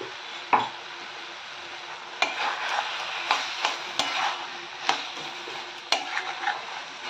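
A spatula stirs a prawn and taro leaf curry in a pan, making repeated scraping strokes at an uneven rhythm over a low simmering sizzle, close and clear with no voices.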